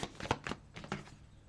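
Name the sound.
shuffling tarot cards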